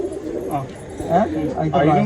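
Racing pigeons coo in a loft, a few low, throaty bursts that swell and fade while someone talks nearby.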